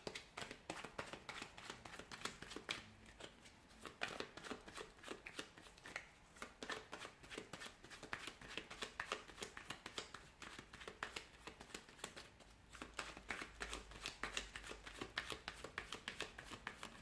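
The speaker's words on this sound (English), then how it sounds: "So we'll give the cards a shuffle and we'll begin." A deck of tarot cards being shuffled by hand, giving steady repeated riffling and slapping flutters close up, with no talk for the whole stretch.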